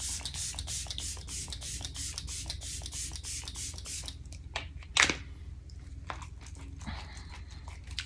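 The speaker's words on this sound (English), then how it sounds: "now I'm going to use our Morphe Luminous Setting Spray, and we're just gonna spray that" Morphe Luminous Setting Spray misted onto a face, a rapid series of close, short hissing spritzes followed by quieter handling and one sharp knock.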